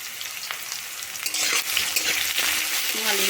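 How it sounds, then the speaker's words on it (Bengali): Potatoes frying in mustard oil in a wok with salt and turmeric added, a continuous sizzle that swells louder partway through, with stirring scrapes and crackles up close. "আলুগুলো ভেজে নেব"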